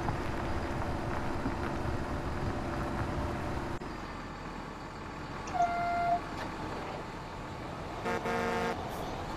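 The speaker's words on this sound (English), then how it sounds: "Might need to move that tractor out of the way a little bit." Tractor engine in Farming Simulator 2017, a steady droning motor rumble that runs throughout, shifting in tone partway, with a brief horn-like tone near the middle.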